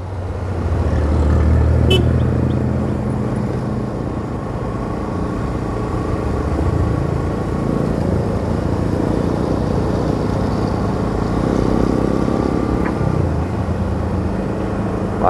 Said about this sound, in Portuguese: Bastante carro.